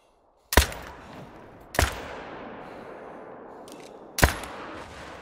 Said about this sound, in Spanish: Doble disparo al ciervo, tío.